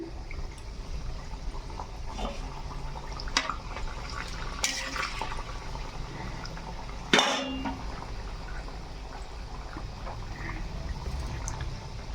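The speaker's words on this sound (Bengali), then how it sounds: "তেল গরম হয়ে গেছে, আমি কিন্তু দিয়ে দিলাম" Thekua dough frying in hot oil in a kadai, a steady close hiss and crackle running the whole way, with a brief sharper burst of sizzle partway through.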